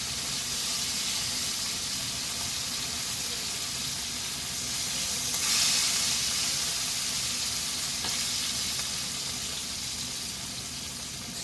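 Beef pieces sizzle in hot grease in a pan, a dense steady crackling hiss that swells briefly midway, close and continuous with no voices.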